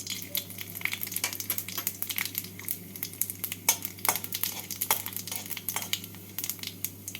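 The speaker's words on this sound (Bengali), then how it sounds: "এবার এর মধ্যে দিয়ে দেব ফোড়ন একটা শুকনো লঙ্কা আর এক টিস্পুন পাঁচ ফোড়ন" A dried red chilli and panch phoron crackle and spit in hot mustard oil, with dense rapid popping and sizzling over a faint steady hum, close and continuous.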